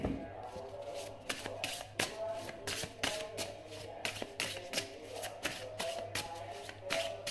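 Tarot cards are shuffled by hand close up, with repeated crisp riffling bursts in a steady rhythm over a faint low hum.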